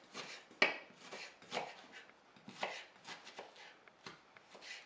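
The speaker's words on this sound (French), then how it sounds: "Un oignon que je peux couper tout simplement en petites rondelles." An onion sliced into rings with a knife on a cutting board: a run of crisp, uneven chops, several distinct close cuts with quieter scraping between, with no talk.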